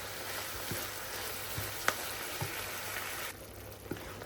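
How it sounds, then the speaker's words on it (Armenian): Ground meat fries in a pan with tomato paste added, giving a soft continuous sizzle with a few small clicks and taps of a utensil, fairly quiet and without talk. "հիմա ավելացնում եմ մի փոքր տապակվել է արդեն միսը, ավելացնում եմ տոմատի մածուկը կամ տոմատի հյութը։"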